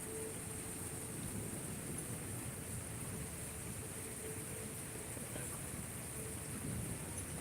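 Steady heavy rain during a nighttime lightning storm, with a low, continuous rumble of thunder rolling underneath the downpour.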